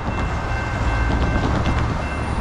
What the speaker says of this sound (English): Fourth train of the day.